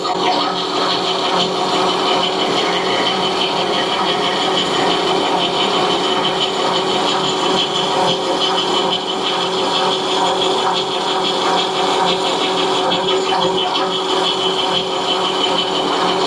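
Metal lathe facing off a part at about 500 RPM with coolant, giving a steady, dense cutting and machine whir that runs continuously and loudly throughout.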